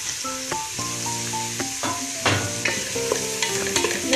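Spatula stirring and scraping through chopped carrot, beans and cabbage frying in a pan for chicken fried rice, with soft sizzling under steady close clinks and scrapes.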